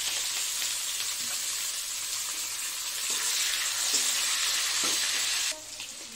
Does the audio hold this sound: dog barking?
no